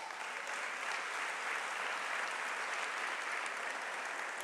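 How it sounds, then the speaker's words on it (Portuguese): Congregation applauding for the Lord Jesus during a church sermon, a dense, steady wash of many hands clapping that holds evenly loud throughout with no voices over it. "dá uma salva de palmas para o Senhor Jesus."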